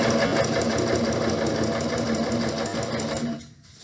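A sewing machine stitches along the pinned edges of a pillowcase, a fast, even mechanical rattle running steadily for several seconds before stopping abruptly near the end.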